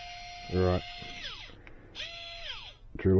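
A power drill whines in short bursts, its pitch sweeping down as the trigger eases, during work on a micro Losi T shock absorber. Brief clicks and handling noise sit between the runs; no one speaks.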